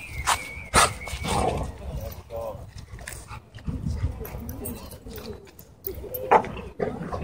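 Dogs at a dog park, a Cane Corso and an Akita, bark and scuffle in short bursts amid outdoor commotion, with people talking throughout and birds in the background.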